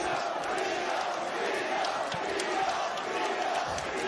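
An arena crowd keeps up a dense, continuous roar of cheering and shouting during the late championship rounds of a professional boxing bout, steady and enveloping throughout with no single voice standing out.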